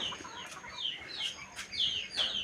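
Chickens cluck at their roost in the late afternoon, several short, bright calls repeating in an irregular rhythm at moderate distance against a quiet background.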